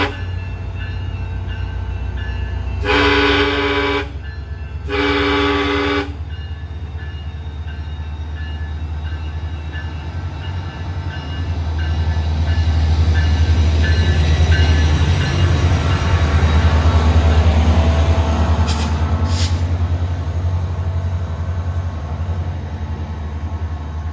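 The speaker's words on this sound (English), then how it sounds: "Amtrak PO97 with a Phase 7 Charger and a Phase 5 P42" Amtrak train hauled by a Phase 7 Charger and a Phase 5 P42 pulls out of a Florida station with two long horn blasts, then a steady heavy rumble of engines and rolling wheels that swells as it passes.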